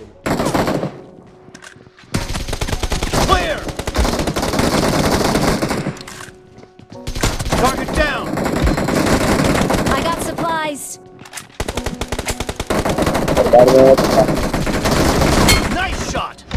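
Rapid automatic gunfire in the shooting game PUBG during a team deathmatch, with long, loud, dense bursts of shots separated by brief pauses, some sharper single cracks and metallic clicks between volleys.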